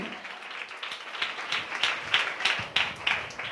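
A church congregation claps in a steady rhythm, each clap crisp and close, the beat holding evenly under faint voices.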